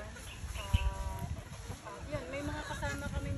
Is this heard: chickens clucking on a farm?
yes